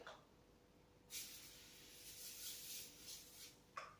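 Cooking spray is sprayed onto a pan: a quiet room, then a faint continuous hiss lasting about two and a half seconds, followed by one short puff of spray at the end.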